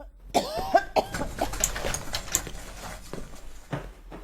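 Several sharp coughs in quick succession, then scattered softer coughs and throat sounds, close and fairly quiet.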